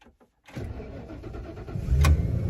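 A Sportsmobile Ford E250 adventure van cranks briefly and fires up, then settles into a steady, close engine idle with no talking.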